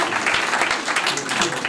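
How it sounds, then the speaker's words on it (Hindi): An audience at a 1965-batch medical college golden jubilee gathering claps steadily in a brief, dense burst of applause. "एक बार जोरदार तालियां दोनों के लिए बजाइएगा।"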